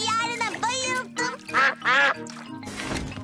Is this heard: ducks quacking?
yes